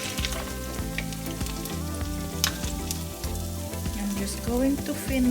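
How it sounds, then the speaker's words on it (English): Potato pancakes frying in a pan give off a continuous crackling sizzle, close and steady, broken by a few small clicks and stirring touches, with soft music playing beneath. "I am now frying our potato."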